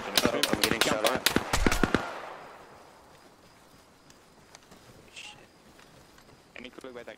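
A rapid burst of loud gunfire in the video game Arma Reforger rattles for about two seconds, then fades to quiet ambience with a few distant shots and faint sounds afterward.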